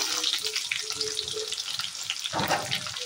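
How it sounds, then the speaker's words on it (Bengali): Chopped onion and garlic frying in hot oil with bay leaves, dried red chillies and five-spice, a dense continuous sizzle with stirring scrapes throughout and a louder burst of frying toward the end, close and without talk. "তারপরে দিয়ে দেবো আস্ত একটা পেঁয়াজ কুচি"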